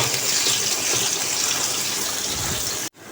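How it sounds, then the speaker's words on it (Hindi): Onions sizzle in a cup of hot mustard oil in a wok, a loud, steady, close frying hiss that cuts off abruptly near the end. "यहाँ मैंने कढ़ाई में डाला है सरसों का तेल 1 कप और इसमें हम डालेंगे ये प्याज"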